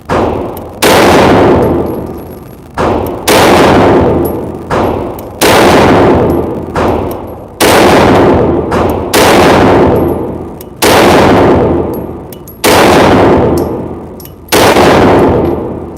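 Loud gunshots ring out one after another at an outdoor shooting range, sharp cracks each followed by a long decaying echo, spaced roughly every one to two seconds with no talking.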